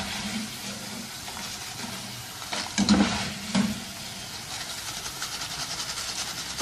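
Thin potato slices fry in hot oil with a steady, close sizzling hiss, broken midway by a couple of louder clattering stirs of a steel spoon.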